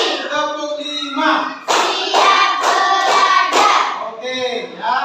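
A school class claps hands together in unison, loud and close, with a series of rhythmic clap patterns over roughly five seconds while a teacher and children's voices call along.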